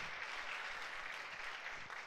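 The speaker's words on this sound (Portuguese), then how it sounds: "Pode aplaudir o Senhor Jesus. É para Ele esse aplauso." Congregation clapping at a pastors' gathering, a steady, faint wash of applause from a crowd heard at a distance.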